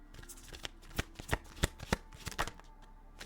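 A deck of tarot cards is shuffled up close in quick, uneven bursts of riffling and slapping, with crisp card-on-card snaps.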